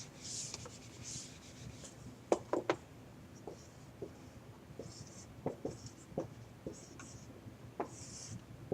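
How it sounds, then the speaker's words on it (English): Numbers are written down by hand with a pen or pencil, making soft, close scratching strokes broken by light taps and pauses, quiet and unhurried. "I'm going to write it down here."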